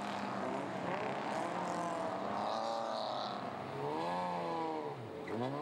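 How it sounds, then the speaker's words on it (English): A BMW 2002 Turbo race car and other cars pass at Hampton Downs motor racing circuit, engines rising and falling in pitch as they go by, loud and continuous with faint background commentary. "And there's Mike Delmont, this fire-breathing BMW 2002 Turbo."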